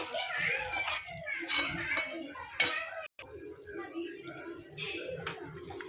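Pepper chicken gravy stirred in a pan with a utensil, scraping and clinking against the metal in irregular bursts, with a voice talking over much of it.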